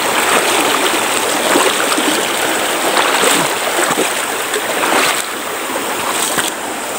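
Water rushes and splashes steadily as someone wades through a fairly deep stream on the way to an abandoned chapel, a loud continuous wash with intermittent sloshes close by.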